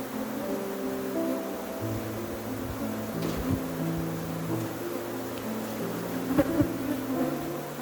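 Africanized honey bees in Trinidad drone and buzz around an open hive, a dense layered hum of many wings close by with shifting pitches and occasional faint knocks and rustles underneath.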